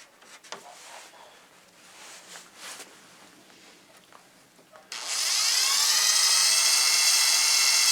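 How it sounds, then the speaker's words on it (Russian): A cordless screwdriver spins a small homemade wind generator, a steady high whine that starts abruptly midway and holds loud and close after a few quiet clicks and handling noises. "Шуруповертом я буду крутить не быстро."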